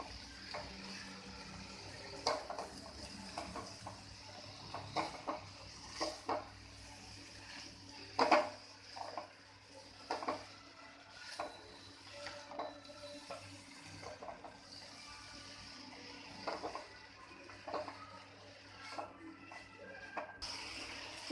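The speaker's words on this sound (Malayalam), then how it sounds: "ഇത് ഇട്ട് കൊടുത്തതിന് ശേഷം നന്നായിട്ട് ഇളക്കി യോജിപ്പിക്കണം." Lentils and raw plantain are stirred in a pan for a thoran, soft scraping and clinking strokes recurring in an irregular rhythm, faint and close, with a quiet sizzle beneath.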